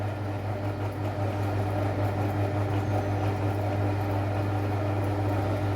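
Stand mixer kneading sourdough baguette dough at speed 3, a steady, loud motor whir with a constant low hum and no change in pitch, running alone without talk.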